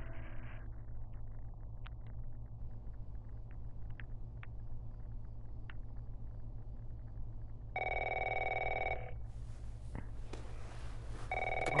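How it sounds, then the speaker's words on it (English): In The Last of Us video game, a home telephone rings in a short electronic burst after a long stretch of low steady rumble, fairly clear and with no voices. "Why does she have the home phone in her house?"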